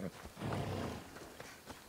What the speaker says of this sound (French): Il y a des loups.